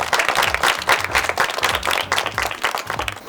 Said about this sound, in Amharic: ለረመዳንም አጨብጭቡላት።